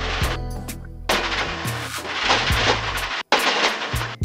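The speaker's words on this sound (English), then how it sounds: "the waves banging the gear, the nose gear around, the nose gear cover" Lake Buccaneer seaplane afloat, waves knocking the nose gear and its cover around: loud, irregular hollow bangs and thumps follow one another closely over a constant rushing wash of water and wind, with one brief gap.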